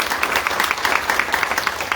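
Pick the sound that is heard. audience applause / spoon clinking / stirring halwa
audience applause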